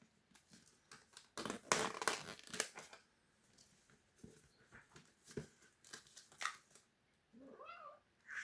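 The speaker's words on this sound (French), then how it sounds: "c'est le chat qui court ou qui fait du bruit" A house cat runs around indoors making noise: scattered crinkling and rustling bursts, close and uneven, with a short meow-like call near the end.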